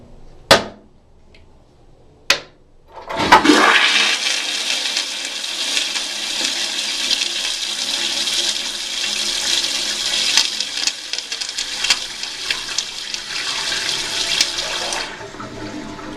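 A Kohler pressure-assisted toilet using 1.6 gallons per flush, in a tiled hotel bathroom near Boston Logan Airport. Two sharp clicks come first, then a loud, forceful whoosh of rushing water that holds steady for about twelve seconds and cuts off abruptly.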